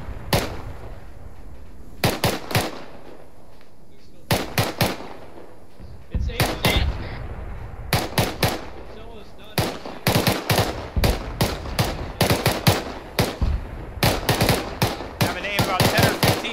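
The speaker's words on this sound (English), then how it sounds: "I think they're shooting." Enemy gunfire from a bunker during a military operation, with sharp cracking shots in irregular bursts and clusters, some rapid like automatic fire, loud and close against a quiet background.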